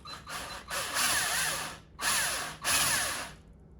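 Three bursts of a power drill whining up and drilling about half an inch into a sand spike, each lasting about a second with short pauses between, close and fairly loud.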